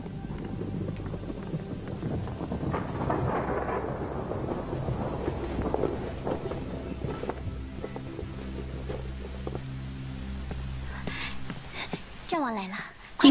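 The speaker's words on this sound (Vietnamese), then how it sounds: "Có sấm sét rồi, mau mau che rèm cửa vào." Rolling thunder in a historical Chinese palace drama, a long low rumble filling the scene under music and sound effects before fading.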